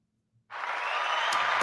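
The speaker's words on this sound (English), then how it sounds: "Do the applause." Applause begins suddenly after a brief silence and then holds as a dense, steady wash of clapping from a crowd.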